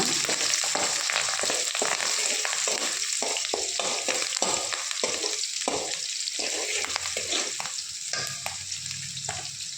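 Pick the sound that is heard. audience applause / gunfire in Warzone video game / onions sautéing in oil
onions sautéing in oil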